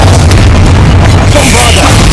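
Blasting-spell explosion in the Hogwarts Legacy video game: a loud, dense boom filling the whole clip, with game combat noise layered through it and no clear pause.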